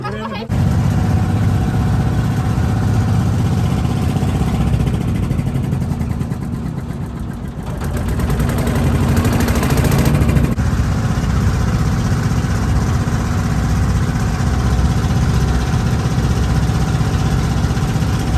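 A boat engine runs steadily on the Padma River near the Padma Bridge at Mawa ghat, a loud continuous drone that dips briefly midway and then returns to full strength.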